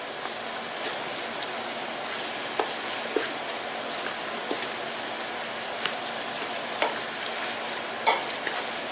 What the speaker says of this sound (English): You're going to mix this just until mixed.